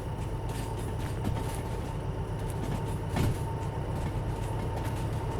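A train runs steadily in the Derail Valley train simulation game, a continuous low rumble and hum with faint rhythmic rail clatter and one brief louder clunk, no voices.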